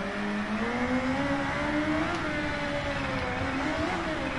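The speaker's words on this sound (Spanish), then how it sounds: "Como suena el turbo, ¿eh? Cada vez que reducimos marcha, la válvula de escape." Turbocharged motorcycle engine in the racing video game Ride 2 revs and whines at high speed, a continuous loud engine drone with rising and falling pitch, heard alone with no talking.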